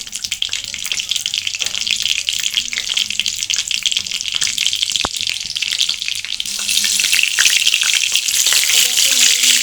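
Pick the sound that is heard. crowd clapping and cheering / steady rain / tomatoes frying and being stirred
tomatoes frying and being stirred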